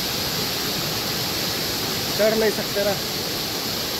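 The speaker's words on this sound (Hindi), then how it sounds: "ये रहा, यहाँ से पानी आ रहा है, जो गुफा जैसे दिख रहा है" Water pours out of a cave-like rock opening as a steady, broad rushing roar that continues throughout, with a person speaking briefly over it.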